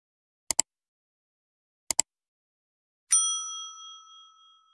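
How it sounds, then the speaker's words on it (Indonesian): Two soft double clicks, then a single bright notification bell ding that rings out clearly and fades slowly, alone against silence. "nyalakan lonceng notifikasinya"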